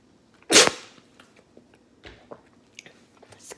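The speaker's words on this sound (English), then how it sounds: "I sneezed." A person sneezes once, a sudden loud burst near the start, followed by quieter scattered clicks and small noises.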